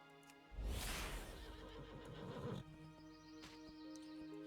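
A horse in the World of Warcraft video game lets out a loud, close neigh that trails off into a shaky whinny, followed by quieter snorts and faint hoof clops.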